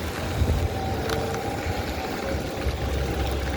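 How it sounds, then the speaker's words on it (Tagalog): A bus pulls up in the rain on a flooded street in Jubail center, Saudi Arabia. Its low engine rumble sits close and steady beneath a wash of rain and road noise. "Dito na, dito ang bus namin."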